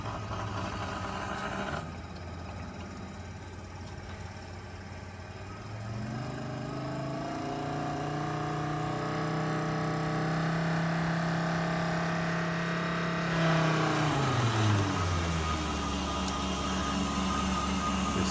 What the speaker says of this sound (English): You see the pump is running smoothly now at 50 psi, which would be its typical operating pressure.